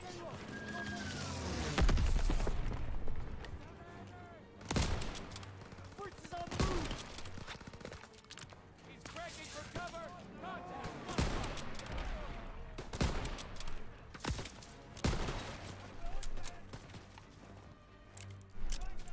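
Bursts of gunfire in a Call of Duty: WWII street battle while shooting at a tank, loud repeated volleys and single shots spread throughout, with a voice shouting now and then.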